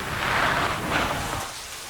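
A dense, steady roar of heavy rain pours down, broad and hissing, easing slightly near the end.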